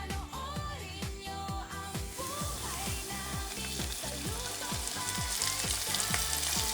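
Flour-coated tamban fish frying in hot oil, a bright, busy sizzle that swells and grows denser and louder over time, with a rhythmic low thumping beat running underneath.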